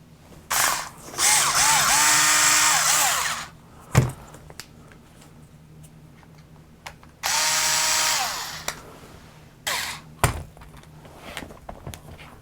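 A power tool driving screws out of the axles of an Axial SMT10 RC monster truck, heard as two sustained whirring bursts with a rising pitch sweep, each followed by sharp clicks and taps of parts being handled, close and loud.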